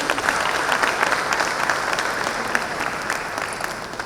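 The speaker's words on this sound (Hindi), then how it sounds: "एक बार जोरदार ताली इन लोगों के लिए।" Loud, sustained applause from a large conference audience at a business conclave in India, dense clapping filling the room steadily throughout with no pause.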